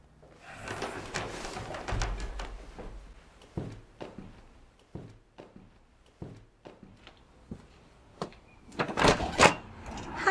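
A front door opens in a movie scene amid a series of clunks and thumps: a latch rattle, scattered knocks and footsteps at moderate distance, then a busier clatter near the end.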